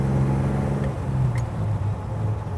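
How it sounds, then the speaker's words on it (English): A 1956 Chevy Deluxe Cab truck engine drones steadily as the truck accelerates at highway speed, a loud continuous low rumble heard from inside the cab with a slight rise and fall in pitch. "run this baby down the road at highway speeds"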